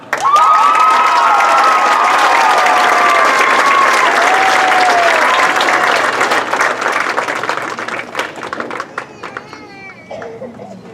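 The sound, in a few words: audience applause and cheering for band award recipient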